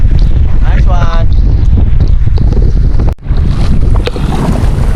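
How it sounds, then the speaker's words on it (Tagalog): Loud, blustery wind buffets the microphone at a Manila Bay breakwater with a constant roar and low rumble, while a faint bird-like chirp sounds briefly early on. "lumalakas na talaga yung hangin dito"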